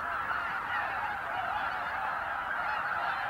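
Many geese honk in a dense, continuous chorus at Lake Miyajima in Hokkaido, Japan, a stopover on their northward migration. The overlapping calls stay steady and fairly loud throughout, with no talking.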